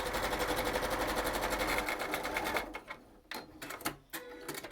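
A sewing machine back-stitches a fabric face mask with a rapid, even mechanical chatter for a couple of seconds, then stops, followed by softer handling noises.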